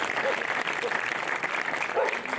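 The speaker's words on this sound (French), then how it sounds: "Je vous demande de l'applaudir aussi." Audience applause at the St Erige festival in Auron, a dense steady patter of clapping held for the whole stretch, with a few brief voices calling out over it.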